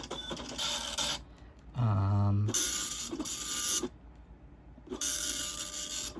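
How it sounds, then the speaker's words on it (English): Printer mechanism whirring and rasping in several bursts, with short pauses between passes and a low buzzing motor segment in the middle. "And then these are it printing the test pattern."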